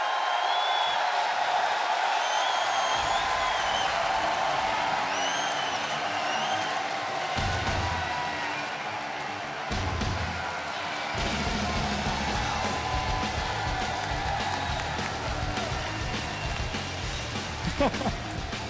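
A loud, dense crowd at the BlizzCon 2011 GSL Grand Final roars and cheers continuously, with whoops and shouts rising above the din throughout.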